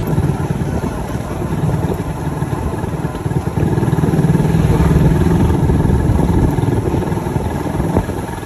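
A motorcycle engine idles nearby in a steady, uneven putter with a faint clatter, running continuously without talk.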